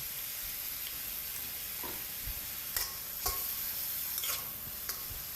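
Soaked glass noodles stir-fried with minced pork, soy sauce, oyster sauce and dark soy, a low continuous sizzle broken by a few sharp spatula scrapes and taps against the pan, no voices.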